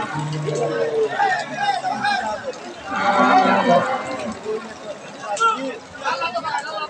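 A Friesian cow at a busy cattle market lets out a loud, drawn moo in the middle, surrounded by a crowd of voices talking and bargaining.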